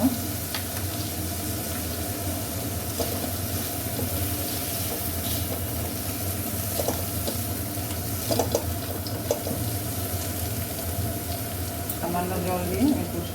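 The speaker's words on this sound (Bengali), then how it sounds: "সামান্য জল দিয়ে আমি কষিয়ে নেব।" Spiced masala for a Bengali fish kofta curry, with red chilli powder, sizzles steadily in a pan as a little water is added and stirred, under a continuous loud frying hiss with light scraping.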